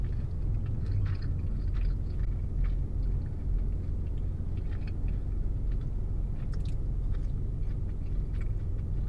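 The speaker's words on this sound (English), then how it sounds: "I want to try one of these peppers too." Someone chewing a bite of pepper at a meal, steady close mouth sounds with faint crunches over a constant low rumble, no talking.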